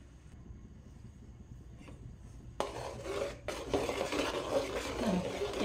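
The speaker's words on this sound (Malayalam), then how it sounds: "നമ്മളിങ്ങനെ ഇളക്കിക്കൊണ്ടേയിരിക്കണം." A utensil stirs melting butter in a pan while ghee is being made, at first a faint quiet scraping, then a louder, busier clatter and sizzle in the second half.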